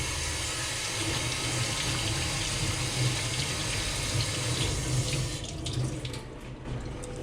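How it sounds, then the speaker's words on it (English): Water runs steadily from a tap in a ramen restaurant kitchen while hands are washed under it, a continuous close splashing rush that eases slightly near the end. "Let's wash my hands real quick."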